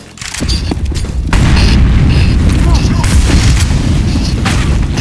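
Heavy booming gunfire in a CS:GO match, loud and sustained with dense overlapping shots and low rumble filling the whole stretch, voices talking underneath.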